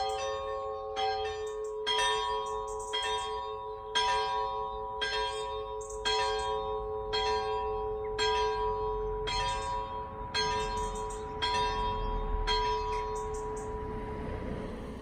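Church bells ringing in Wales, a steady series of about a dozen clear, evenly spaced strikes with long sustained ringing tones underneath, carrying over faint outdoor background.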